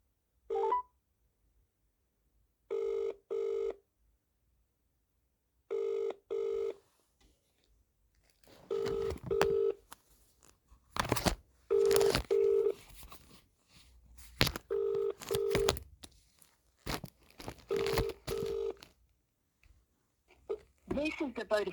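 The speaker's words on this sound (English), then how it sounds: "Ring up Christopher Browell" Phone dialing: a few bursts of keypad tones, then repeated electronic ringing on a mobile call, alternating with short bursts of a different tonal signal, clear and close.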